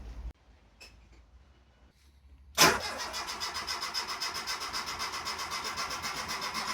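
A 1979 Volvo 345 car engine cranks and catches after a quiet start, then settles into a steady, close, moderately loud idle with a pulsing rhythm, and no one speaks.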